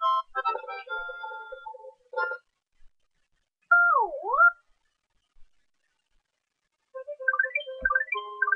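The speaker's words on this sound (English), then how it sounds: "That was a whistling chuck, basically summons enemies." A Whistling Chuck enemy in Super Mario World gives a short, bright two-tone whistle that dips and rises, set between chirpy game music and sound effects with gaps of silence.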